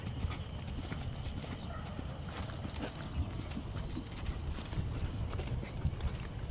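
Horse hooves clip-clop steadily at an outdoor riding lesson with jumping, a continuous rhythmic beat of footfalls over a low background rumble, with no talking.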